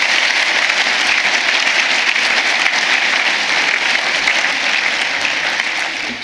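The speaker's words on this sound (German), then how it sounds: "Applaus" Sustained audience applause at a congress talk, a dense even wash of clapping from a large crowd that carries on steadily before easing slightly at the end.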